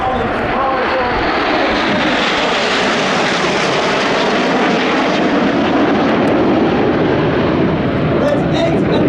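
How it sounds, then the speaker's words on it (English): Red Arrows jet display at the Royal International Air Tattoo 2024, a loud, continuous roar of jet aircraft passing overhead that swells and holds through the clip, with a commentator's voice over the public address underneath. "In 9 arrows from the left, it's the Red Arrows."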